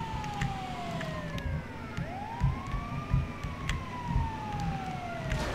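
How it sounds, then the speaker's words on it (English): An ambulance siren in the video game GTA V wails with rising and falling sweeps, heard alongside steady road and engine noise with no talking. "Hello, citizens, the ambulance is here!"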